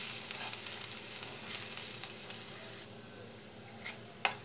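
Crushed whole garlic cloves frying in oil, a soft continuous sizzle with a few scattered stirring clicks and one sharper knock near the end.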